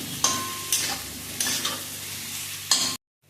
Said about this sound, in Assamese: গোটেইখিনি মই ভালদৰে এতিয়া ভাজি ল'ম।